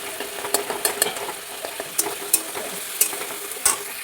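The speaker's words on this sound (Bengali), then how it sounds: "একটু মশলাটা কষিয়ে নিই" Spice masala frying and being stirred in a pan at home, with steady sizzling broken by sharp scraping clinks of the spoon against the pan several times, close and moderately loud.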